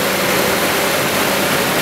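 A Nissan D21 pickup truck engine idles after coolant and hoses were refitted, a loud, steady and dense running drone held close to the microphone with no pauses or talk.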